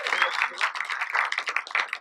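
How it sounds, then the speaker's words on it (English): An audience at an award night for films cheers and claps for the animated entries, a dense burst of applause and voices that fills the room and holds steady throughout. "Can we have a cheer for the animated films?"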